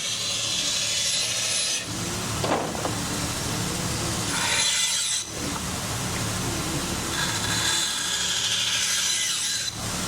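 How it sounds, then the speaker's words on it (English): A band saw grinds steadily through classic car restoration parts in a factory, a loud continuous rasping whine that dips briefly a few times as cuts finish, with no talking. "We do all our band sawing."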